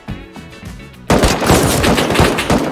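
Gunfire in a battle royale video game starts with a few sharp shots. Then a sudden loud burst of rapid automatic fire follows and runs on as a dense, close fusillade.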